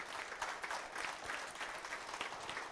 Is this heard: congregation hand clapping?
yes